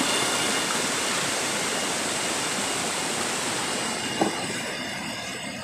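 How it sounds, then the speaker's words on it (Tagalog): Apa-Apa waterfall pours in a steady, loud broadband rush of falling water that holds evenly throughout, with one brief faint knock near the end. "Ganda ng falls ng Apa-Apa."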